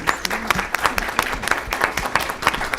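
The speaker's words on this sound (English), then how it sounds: "I want y'all to join me in giving this young lady right here a real round of applause for setting this thing up." Audience at a November 2018 politics event breaks into applause, a steady dense patter of many hands clapping fairly close, with a voice briefly audible underneath.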